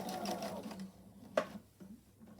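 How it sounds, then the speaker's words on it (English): A domestic sewing machine stitches fabric for an apparel construction sample, running in short whirring bursts with a sharp click as the needle drops, then brief pauses between stitches as the presser foot is lifted. "Needle is going to go down, presser foot up, stitch to the next one"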